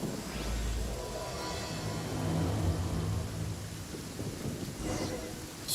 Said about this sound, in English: Strange and friendless road, and it's raining.